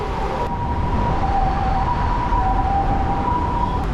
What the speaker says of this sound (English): every time Katie starts recording, some ambulance drives by.